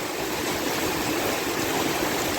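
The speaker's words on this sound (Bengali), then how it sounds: "ও যে দূরে বাঁশঝাড়গুলো বৃষ্টিতে কি পরিমাণ দুলতেছে, আর বাতাস।" Heavy rain pours steadily with wind at a village house, a dense, even wash of noise without pauses; the swaying bamboo groves in the distance make no separate sound of their own.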